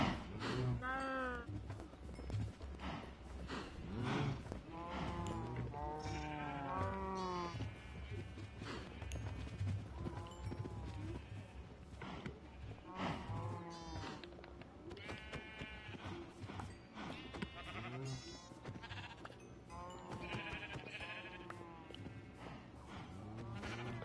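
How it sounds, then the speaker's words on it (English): Sheep bleating in Minecraft, repeated wavering bleats from several animals in overlapping bursts across the stretch, fairly close, while someone talks intermittently underneath. "And I left out so many damn sheep."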